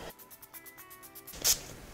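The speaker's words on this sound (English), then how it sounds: "So I'm gonna just spritz my face." A NYX primer water spray mist bottle is spritzed onto a face in one short, close, bright hiss. Soft rhythmic clicking comes just before it, and there is no talk.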